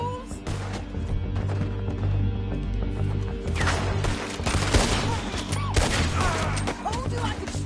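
Gunfire fills a shootout in the Red Dead Redemption 2 video game, dense, continuous cracking shots near and far, with voices talking over the battle.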